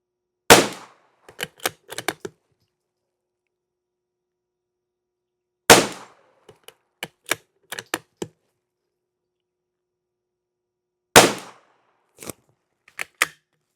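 A rifle fires CCI Standard Velocity rounds lubed with fin grease: three groups of sharp, cracking shots, each opening with a louder report followed by several quicker ones, separated by long silent gaps, close and clear with no voices.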